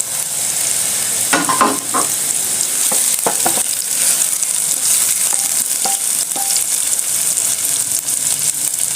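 Chicken frying with pepper sizzles steadily and loudly for several seconds, while a spoon scrapes and stirs the pan in clustered clicks and knocks.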